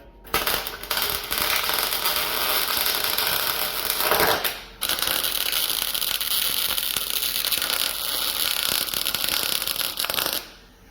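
Welding on a Cadillac being built into a stock car, a loud continuous crackling buzz with a brief break near the middle before resuming, then stopping at the end.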